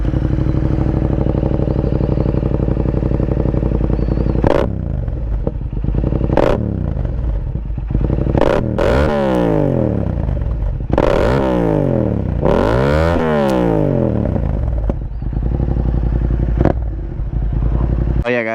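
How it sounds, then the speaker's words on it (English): A 2022 Yamaha MT-07 motorcycle with its dB killer removed runs loud and close, a steady engine and exhaust drone broken by several sharp throttle blips and rising, falling revs, with no talking. "here's the actual sound clip for it."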